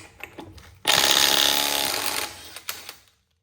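A Snap-on cordless impact wrench, comparing the CT861AM with the T761A, hammers a lug nut loose in one loud, sustained burst of a bit over two seconds, preceded and followed by quieter handling clicks.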